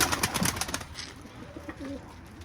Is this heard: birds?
yes